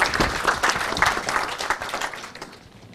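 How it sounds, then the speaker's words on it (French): An audience applauds at a French economics panel broadcast, a dense burst of clapping that starts loud and gradually thins and fades over three seconds, with no voices over it. "On peut l'applaudir"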